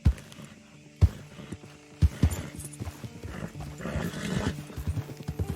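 Horse hoofbeats in Red Dead Redemption 2, starting with a few heavy, evenly spaced thuds about a second apart, then settling into a steady close clip-clop with tack and ambient noise underneath.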